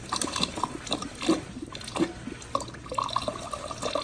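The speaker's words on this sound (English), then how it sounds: "This is water right here." Water trickles and drips through a newly connected refrigerator ice maker water line, a close, irregular liquid patter with small splashes and no talk.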